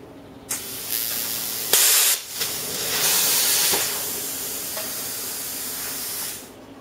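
Bursts of compressed air hiss loudly from a plasma cutter torch nozzle, a few short blasts followed by a longer sustained rush that fades out, close by.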